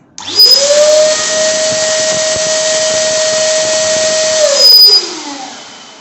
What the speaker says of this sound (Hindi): जब फुलाएंगे तो इस बटन को प्रेस कर देंगे तो हमारा ये बलून चलेगा और बलून फूलेंगे